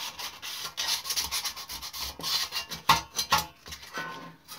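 Hand sanding of a model locomotive tender with 400-grit sandpaper, close rhythmic back-and-forth rasping strokes, steady and moderately quiet, with no talking.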